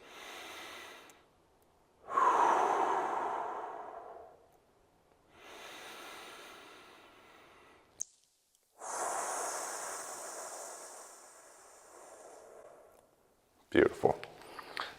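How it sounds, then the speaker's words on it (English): Several slow, deep breaths in and out, loud and close, taken during a hand stretch pressed against a wall, each long breath separated by short silences, with a sharp clatter near the end. "take 2 big inhale exhales"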